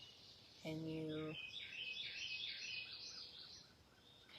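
Summertime birds chirp and trill in a quick, repeated run of high calls, faint and somewhat distant, following a brief ringing tone near the start.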